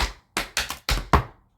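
A quick burst of about six sharp tap-shoe strikes on a hard floor, a maxi forward step without pullback, close and crisp, with a heavier final stomp that rings out briefly.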